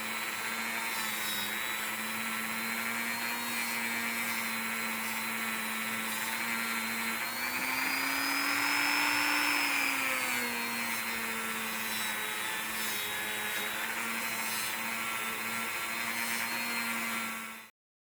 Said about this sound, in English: And then I went over them with the fine scrubby wheel.